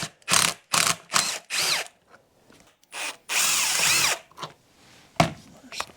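A power tool spins out 4mm hex bolts on a Honda CRF250L motorcycle in loud, close whirring bursts, several short runs, then a longer one, then a final brief burst, with quiet gaps between.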